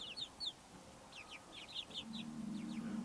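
Chickens and roosters in a straw-strewn pen, soft clucks and chirpy calls scattered throughout, faint and somewhat distant, with a low steady hum beneath.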